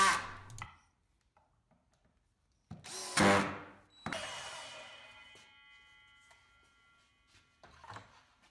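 Power drill driving pocket screws into the wooden top of a miter station box, two short bursts of whirring, then a longer screw drive that winds down and fades, with faint clatter near the end.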